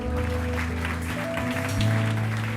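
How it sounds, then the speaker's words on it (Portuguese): A Sunday church congregation in Cascais claps for a sustained stretch during the service, and the claps blend into steady, held musical tones that play underneath. "Aplaude ao Senhor."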